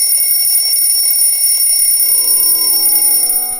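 An alarm clock rings loudly and continuously, a bright repeating electronic tone with steady high pitched harmonics, alone with no voices.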